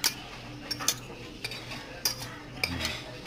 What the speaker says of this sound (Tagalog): Di ba i-mix jud nato siya maayo para mulami ang ato ang pancit canton.